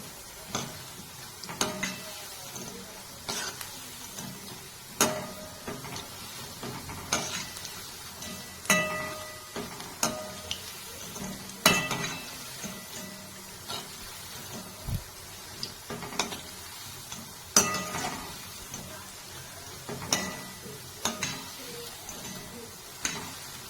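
Spinach pakoda fry in hot oil with a soft continuous sizzle. Irregular crackles, pops and light ticks of utensils sound close by, with no talking.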